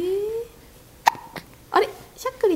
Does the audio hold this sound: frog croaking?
no